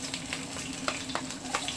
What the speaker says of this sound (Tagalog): Atong i-add ang atuang sibuyas or the red onion.